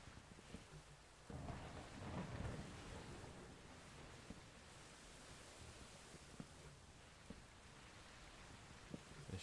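Hail and thunder in a Minecraft weather mod, a steady hissing downpour with a rumbling swell of thunder early on, continuous and fairly distant, with no talk.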